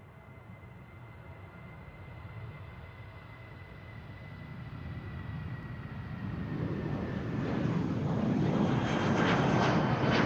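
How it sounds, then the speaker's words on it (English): An Etihad Airways Boeing 787 Dreamliner bound for Abu Dhabi at Amsterdam Schiphol builds from a faint distant hum into a rising, swelling jet engine roar over about ten seconds, heard alone without voices. "After that, to Abu Dhabi, the Etihad Airways 787 Dreamliner"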